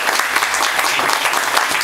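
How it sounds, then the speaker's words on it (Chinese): Parents in an audience at a kindergarten Christmas celebration give a round of brisk, dense applause, loud and unbroken across the whole moment. "我们请我们所有的爸爸妈妈再一次给他掌声"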